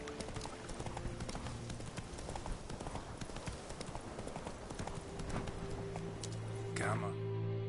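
A horse gallops in The Witcher 3 with a quick, steady clip-clop of hooves under constant game ambience and a voice. A faint whinny-like sweep comes near the end.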